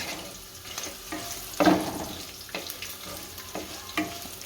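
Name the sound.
chana dal and urad dal roasting in oil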